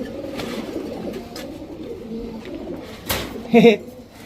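Yellow Baghdadi Huma pigeons give soft, low cooing close by, murmuring throatily with a louder coo near the end and a brief knock just before it.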